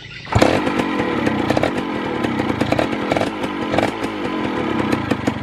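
A Yamaha F1ZR two-stroke motorcycle engine firing up and idling after being completely dead, a loud rough buzzing rattle starting suddenly and running steadily close by.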